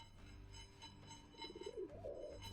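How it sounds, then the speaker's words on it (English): A pigeon coos in a video game, a couple of soft, warbling phrases rising over a steady low background hum, moderately close and fairly quiet, with no talking. "Get out of the way, pigeon."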